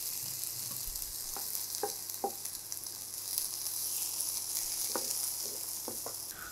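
Halved tomato pieces fry in a pan, giving a steady close sizzle with a few soft stirring scrapes and clicks and no talking.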